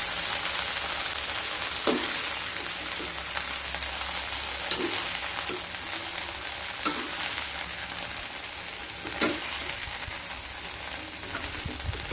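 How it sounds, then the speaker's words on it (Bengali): Okra and onion fry gently in a pan with a soft, steady sizzle, broken by occasional clicks and scrapes of a spatula stirring. "ঢ্যাঁড়স আর পেঁয়াজকে খুব ভালোভাবে ভাজা হয়ে গেছে।"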